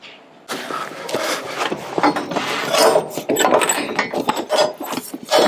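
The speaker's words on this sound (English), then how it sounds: "we're going to compress the shock nice and slow, and it is obviously going to extend" A new aftermarket suspension shock for a Land Rover Defender 90 being compressed by hand, giving close, irregular creaking, ratcheting and rubbing mechanical noises in short bursts after a brief quiet start.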